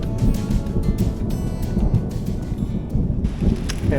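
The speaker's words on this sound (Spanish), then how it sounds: "Empezó a llover." Rain falls steadily in the mountains of Mu Cang Chai, Vietnam, a dense close wash that fills the whole stretch, with low rumbling thunder rolling through it and no voices.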